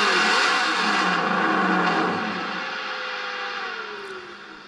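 Simulated engine from an RC truck sound kit modeled on a 4x4 Baja truck: a steady, whirring rev that slowly winds down and fades over a few seconds, with no talk.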